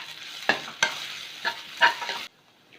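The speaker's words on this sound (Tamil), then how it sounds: "இப்போ இது கூடவே கொஞ்சமாக இஞ்சி பூண்டு பேஸ்ட் ஆட் பண்ணிக்கிறேன். இப்போ இதையும் சேர்த்து வதக்கிடலாம்." Ginger garlic paste sautéing in a pan, with four or five distinct sharp stirring scrapes over a low sizzle, close and clear, ending in near silence.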